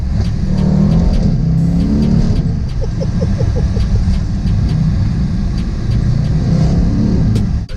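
A Mercedes-AMG E63 S engine rumbling loudly through a series of downshifts, with rev blips and a rapid run of crackling pops, heard close from inside the car in a tunnel.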